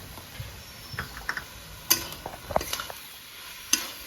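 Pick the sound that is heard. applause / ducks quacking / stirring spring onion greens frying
stirring spring onion greens frying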